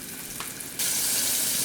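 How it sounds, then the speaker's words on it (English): Armadillo meat fries in hot grease in a pan, a steady crackling sizzle that jumps suddenly louder and brighter as it takes hold, close and continuous with no talking. "Frying just like it ought to be."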